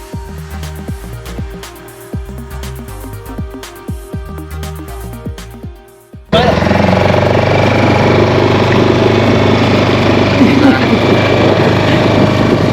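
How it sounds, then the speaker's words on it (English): A Zodiac inflatable boat's outboard engine runs loudly and steadily for a Galapagos beach landing, a constant close roar filling the second half after an earlier stretch of background music. "now we are going on the little Zodiac to the beach"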